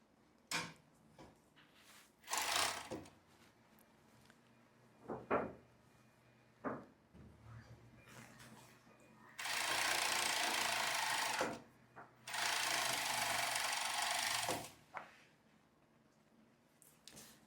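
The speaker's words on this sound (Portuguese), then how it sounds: "eu tô costurando na máquina overlock ponto cadeia" An overlock sewing machine runs a chain stitch on a long casual skirt, with two sustained bursts of fast whirring stitching preceded by scattered clicks and handling knocks of fabric and machine parts.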